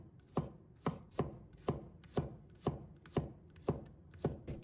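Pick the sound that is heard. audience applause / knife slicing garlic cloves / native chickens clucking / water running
knife slicing garlic cloves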